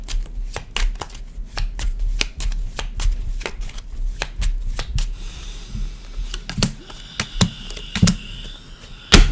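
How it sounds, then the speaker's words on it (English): Tarot cards are shuffled in quick riffling bursts and sharp slaps, close and crisp, repeating irregularly for several seconds with no talking. "One more shuffle."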